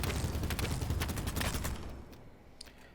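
FAL rifle in Battlebit firing a steady automatic burst at a slowish cyclic rate, loud and close for about two seconds, then cutting off to quiet tail echoes with a single faint shot near the end.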